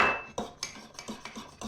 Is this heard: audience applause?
no